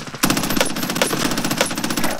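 Rapid automatic gunfire from an AUG rifle in a first-person shooter video game: a fast, continuous burst of close, loud shots with no pause.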